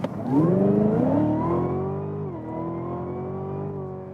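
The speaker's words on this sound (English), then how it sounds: "we start our performance car review with the performance acceleration" A 2018 Cadillac CTS-V engine revs hard and climbs in pitch as it accelerates, sustained and loud, with a brief dip as a gear changes before pulling again.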